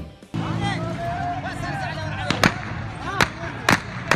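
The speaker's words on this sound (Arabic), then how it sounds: "اطلاق نار حي عن متظاهرين." Live gunfire aimed at protesters in Dhi Qar as riot police disperse the crowd, several sharp loud cracking shots spaced a second or so apart over shouting voices and crowd noise.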